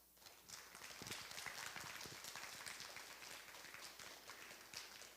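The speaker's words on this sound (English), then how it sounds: "Give a big round of applause." Faint, distant audience applause at a university academic awards ceremony, a soft steady spread of many hands clapping with no voices over it.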